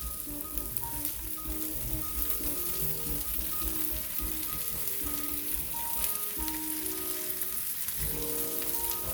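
Salmon fillets sizzle steadily in a hot pan, a dense crackling hiss with scattered pops that continues evenly and close up with no talking.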